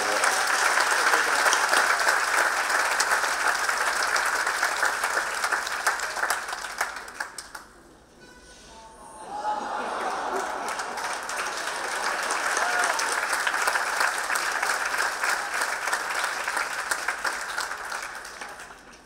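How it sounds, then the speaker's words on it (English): Graduation ceremony audience applauding an honoree: sustained, dense clapping from a large crowd that dips to near quiet midway, then swells again and continues strongly to the end. "I would like everyone to give a round of applause for Clara for this incredible work"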